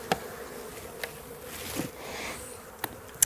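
Honey bees buzz in a measuring cup while being swirled for an alcohol wash sampling, a faint steady hum with a few sharp taps and clinks of glass or plastic.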